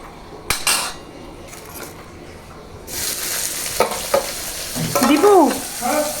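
Tempering spices sizzle and crackle in a hot pan for potato and eggplant, while a utensil scrapes and clinks against the metal, with bursts of louder frying near the end.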